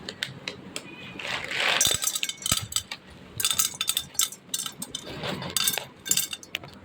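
Dry cat food rattles into a cat's bowl at home, scattered clinks and pattering bursts coming in uneven waves, close by, with a voice talking now and then.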